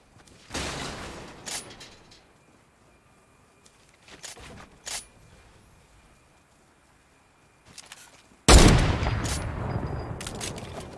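Gunfire crackles in a Fortnite match: scattered bursts and single shots separated by quiet gaps, then a loud sustained volley near the end.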